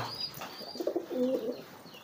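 A pigeon gives a soft, low coo, close by, against a faint background hiss.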